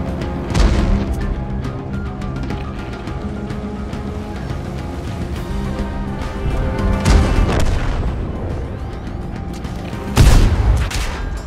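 Tank cannon fire and shell hits in the World of Tanks video game, in Steel Hunter mode with the Bai Lang tank: a few heavy, booming blasts over a constant rumbling battle bed, loud and without speech.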